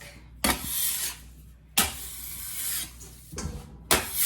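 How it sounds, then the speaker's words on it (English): Leftover cinnamon roll dough is scraped off a work surface into a sink: several rough, rasping scrapes come in bursts with short pauses, close by and with no speech. "I'm just going to clean this up a little bit by just scraping that into my sink"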